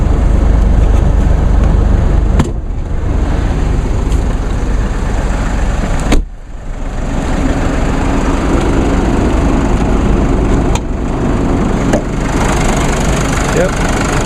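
A Mercedes 2.1 liter four-cylinder twin-turbo diesel idles after a cold start at 23°F, a loud, steady, close clattering drone with a few brief dips and clicks.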